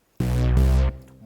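Crunchy sawtooth synth effect, a single sustained buzzy tone with strong harmonics, held for under a second and then cut off into a faint decaying tail.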